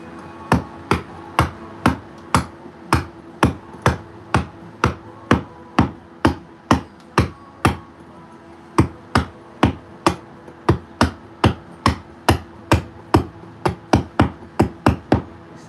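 A stonemason strikes a long chisel with a hammer to carve stone, sharp metallic taps landing close and loud in a steady, even rhythm of about two blows per second.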